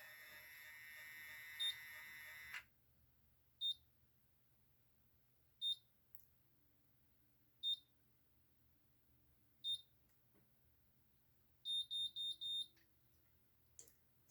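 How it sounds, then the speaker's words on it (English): An Infiniti Pro by Conair automatic hair curler gives short, high electronic beeps at regular intervals of about two seconds, ending in a quick burst of four beeps, against a quiet background. "it'll beep or click when it's time for your hair to be released"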